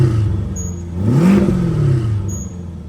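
A Corvette C8 with the exhaust tips removed, in tour mode, idles and then is revved once, the engine note rising to a deep swelling roar and falling back to a steady rumbling idle, close and loud.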